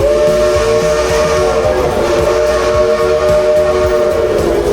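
A loud, sustained steam train whistle blows steadily and close by at Silver Dollar City theme park in Branson, a shrill chord held without pause.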